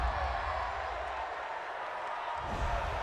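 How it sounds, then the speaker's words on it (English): A steady, dense roar from a football stadium crowd at an NFL game between the Arizona Cardinals and San Francisco 49ers, reacting to a roughing-the-passer penalty. The noise holds throughout and swells slightly at the end. "this crowd does not like that call"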